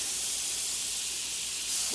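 Steady, bright sizzling hiss from butter in a hot pan, continuous and close, with no talking.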